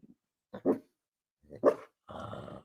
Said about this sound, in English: Very intimidating. My guard dog.